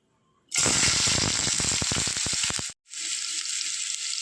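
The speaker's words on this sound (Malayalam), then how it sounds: "ഇപ്പോൾ വെളിച്ചെണ്ണ നന്നായി ചൂടായി വന്നിട്ടുണ്ട് ആ സമയത്തേക്ക് നമ്മൾ എടുത്തു വെച്ചിരിക്കുന്ന ഇഞ്ചി ചേർത്ത് കൊടുക്കാം" Ginger dropped into hot coconut oil for a mushroom roast sets off a loud, bright sizzle with crackling pops, which cuts out abruptly and then resumes as a steady frying hiss.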